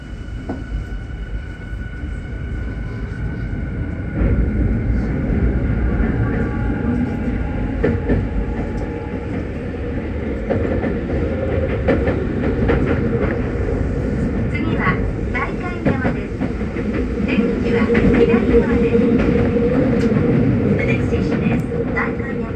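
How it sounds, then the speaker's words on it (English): A Tokyo Metro subway train running, with a loud, steady rumble of wheels and motors, rhythmic clatter and occasional squeals, heard from inside the car for a sustained stretch. "For example, like in this video of Tokyo Metro."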